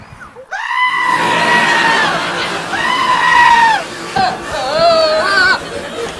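A goat bleats in long, wavering, harmonic cries, three drawn-out calls one after another, loud and close, with no other sound behind them.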